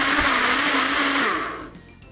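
A blender blending mango, yogurt and water for mango lassi whirs loudly and steadily, its motor droning close up before the sound trails off toward the end.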